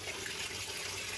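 2003 Whirlpool Gold Ultimate Care II direct drive washer filling with water for an extra rinse: a steady, broadband rush of water pouring into the tub, constant and close, with no talking.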